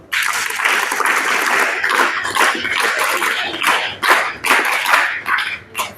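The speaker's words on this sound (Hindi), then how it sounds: "जिसको अच्छा लगे एक बार ताली बजाओ।" Group of children clapping together at an Arya Samaj gathering, a dense, continuous patter of many hands lasting several seconds, fairly loud and close, with the rhythm swelling and dipping slightly toward the end.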